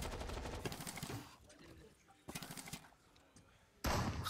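Gunfire in a competitive first-person shooter esports match, several rapid bursts of shots with gaps between them, mixed with game sounds and faint voices.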